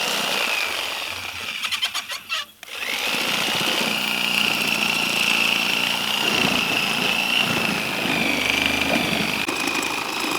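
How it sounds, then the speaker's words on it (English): Sawzall reciprocating saw cutting through a wooden outrigger during shop foundation tear-out, a loud steady buzzing cut that holds for about ten seconds, with a brief stutter and pause early on. "I'm going to just kind of go in there with the sawzall a little bit and get that last little bit kind of to release."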